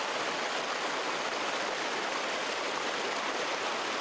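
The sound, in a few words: river Magdalena flowing over stones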